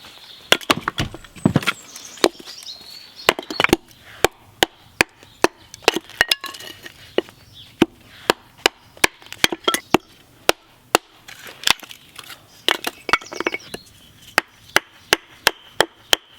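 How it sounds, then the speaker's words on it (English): Firewood logs are split into smaller pieces at a campfire, with sharp, loud woody chops and splintering cracks coming in an irregular but steady series, close by and with no talking. "that'll still need processing down, splitting down into smaller pieces to get my fire going"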